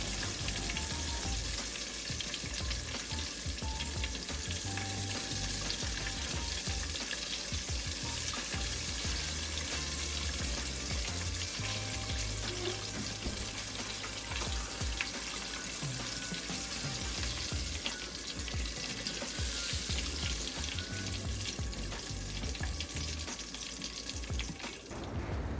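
Catfish frying in oil, a dense, loud, continuous crackling sizzle that holds steady for the full stretch, close by, with no talking.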